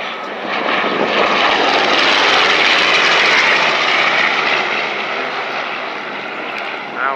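A warbird propeller aircraft flies overhead at an air show, a loud, broad engine roar that swells as it passes and slowly fades, with no talking.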